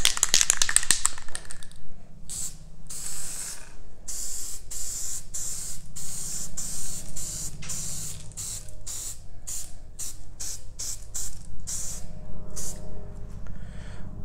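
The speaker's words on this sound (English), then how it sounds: "and spray paint it." Cheap spray paint hissing from an aerosol can in a series of short and longer bursts with brief pauses, close and steady, no voices.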